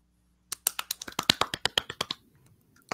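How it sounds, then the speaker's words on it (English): Hands clapping right up against the microphone in a quick run of about a dozen sharp, crisp claps, evenly spaced and close, then silence. "It's like our weird ASMR clapping, so that way it's for people's ears."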